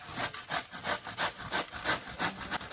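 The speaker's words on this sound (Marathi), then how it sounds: "आता हे किसून घेते." Bottle gourd is grated by hand in a kitchen, a steady rhythmic rasping of strokes back and forth, close and fairly loud, with no talking.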